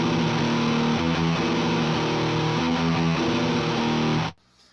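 A heavily distorted electric guitar through a Boss HM-2 pedal and a Marauder amp, unfiltered, chugs a loud, thick riff with no talking and then cuts off abruptly near the end.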